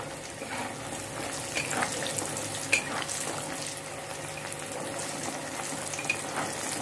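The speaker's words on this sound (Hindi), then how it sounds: "जो बड़ी हम लोगों ने रखा हुआ था वो बड़ी को हम लोग इसी तेल में हल्का सा फ्राई कर लेंगे।" Bori lentil dumplings fry lightly in oil for a fish and brinjal dish, giving a continuous bubbling sizzle with watery crackle and a couple of faint clinks, steady throughout.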